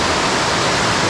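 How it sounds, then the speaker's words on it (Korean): A loud, continuous rush of a large waterfall in the Sibiseontang Valley of Seoraksan, Korea, a dense steady roar close by with no breaks. "와, 이 폭포 보세요."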